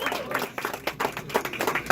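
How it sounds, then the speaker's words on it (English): A theatre audience at a follies show applauds, with a dense patter of many hands clapping steadily close by, with some crowd noise mixed in. "let's give a round of applause for that"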